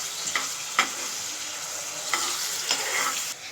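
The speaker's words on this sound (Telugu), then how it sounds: "ఆనియన్స్ వేగినాక మనం కొంచెం సాల్ట్ వేసుకోవాలి." Onions and green chillies frying in a pan while being stirred, a steady sizzle with a few sharper scrapes of the spoon at irregular intervals, close and moderately loud with no talking.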